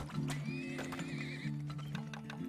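A horse in the Turmoil video game whinnies in a wavering call while hooves clip-clop, all over loud, steady game music.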